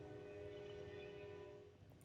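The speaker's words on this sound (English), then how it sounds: "I am so sorry if you are hearing a train right now." A train rolls past with a steady low rumble and a sustained horn-like tone, fairly faint as if heard from indoors.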